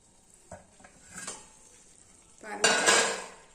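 Light metallic clinks and clatter of an idli steamer pot being handled as wheat rava dumplings are placed inside over boiling water, ending in a louder burst of hissing steam and rattling, close up.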